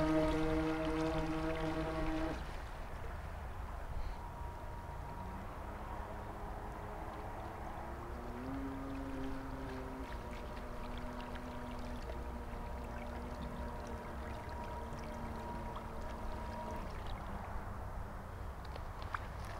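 A vintage radio-controlled boat runs on water among tall reeds, its small motor giving a steady buzzing whine that shifts pitch as it moves, with water churning beneath; the motor stays fairly loud and continuous throughout.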